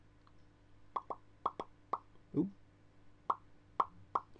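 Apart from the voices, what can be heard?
glue being applied to grass tuft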